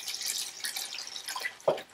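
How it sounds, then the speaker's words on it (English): Hot water poured and dripping onto wool during wet felting, a faint trickle with scattered drips and a sharper splash near the end. "Now, I'm going to pour some more hot water"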